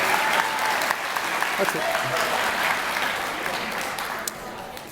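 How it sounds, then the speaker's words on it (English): Continuous applause from an audience at an 8th grade school awards program, steady dense clapping with a few louder individual claps and a brief spoken remark partway through. "Round of applause."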